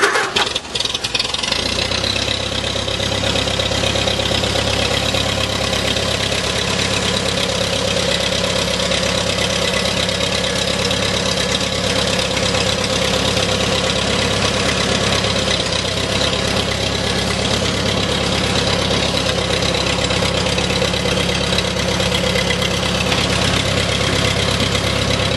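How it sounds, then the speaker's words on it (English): An engine cranks and catches, then a small Farmall tractor engine, out of gear with a little choke and throttle, idles steadily and loudly for a long stretch, with a rough, even low chug. "I'll see if I can start this tractor up and you hear it run."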